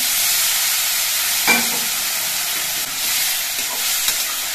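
Turmeric and cumin spice paste with green chilli frying in a pan with a splash of water, giving a steady close broadband sizzle and a brief stir around the middle, no talk.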